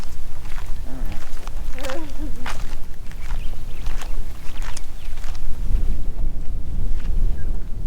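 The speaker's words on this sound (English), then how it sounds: "the wind, it feels like the wind's going to push me over" Strong wind blows hard outdoors on a sheep station in open country, buffeting the microphone with loud, gusty low rumble throughout, while a few brief footsteps or knocks break through and a voice briefly speaks.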